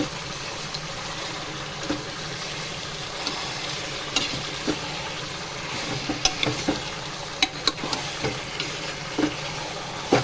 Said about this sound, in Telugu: చికెన్ వేసుకొని కలుపుకుందాం, మిక్స్ చేసుకుందాం.